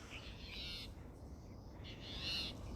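Wild birds call outdoors on a hike at Black Hill, two faint, high calls a moment apart over a low, constant outdoor hiss.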